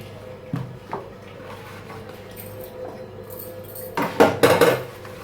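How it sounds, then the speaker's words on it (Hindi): Dishes and lunch boxes being washed in a home kitchen: a low steady background with a couple of soft clinks early on, then a louder burst of clattering utensils and containers near the end, with no talking. "मैं साथ साथ जो है बर्तन भी वॉश कर देती हूँ ताकि बर्तन इकट्ठे ना हो।"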